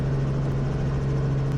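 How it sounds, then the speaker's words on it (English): Continuous Robinson R44 helicopter engine drone at a constant 2,718 RPM during a touch-and-go, with a strong steady low hum and broad rushing noise, loud and unbroken throughout. "The engine is cutting back in because we're just doing a touch and go."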